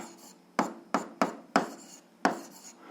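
Pen or chalk writing out an algebra equation, five sharp scratchy strokes in an uneven rhythm, each followed by a short rubbing tail, close and fairly loud, with no talking.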